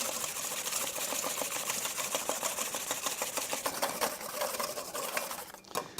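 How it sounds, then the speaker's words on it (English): Egg whites whisked by hand in a bowl, a fast steady run of rapid clicking, scraping strokes of the whisk against the bowl, fairly close, continuous and without talk, briefly thinning near the end. "now I'm going to whisk these egg whites until they're peaks"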